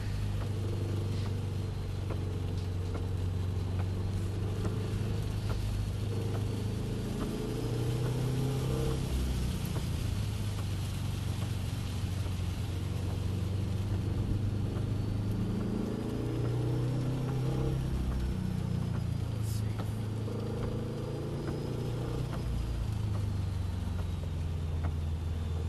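From inside a car driving on a rain-wet road, the engine hums steadily under light throttle, rising and falling gently beneath constant broadband road and spray hiss.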